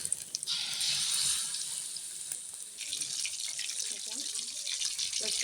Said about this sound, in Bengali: লইট্টা মাছগুলো ফ্রাই হচ্ছে।